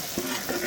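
Green chillies sautéing in a pan with garlic, ginger and whole spices like cinnamon and cloves for a chicken kurma, giving a steady close sizzle with a brief stirring scrape.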